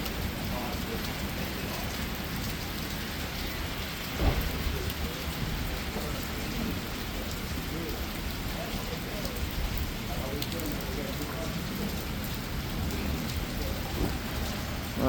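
Heavy rain pours steadily during a thunderstorm in Memphis, a dense, loud hiss with one brief thump of thunder partway through, and no clear speech.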